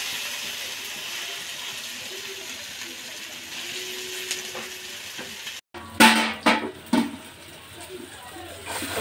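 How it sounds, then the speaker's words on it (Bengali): Spice paste (masala) is stirred and fried in a pan, starting with a soft steady sizzle, then after a brief gap giving louder scraping stirs and crackling bursts close by, with no talk. "মশলাটা আমি ভালো করে কষিয়ে নিয়েছি"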